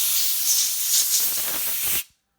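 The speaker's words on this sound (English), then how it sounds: "now I can take my air hose" A compressed air hose blasts a loud, steady hiss through the cleaned guide bearings of a bandsaw for about two seconds, then cuts off abruptly into silence.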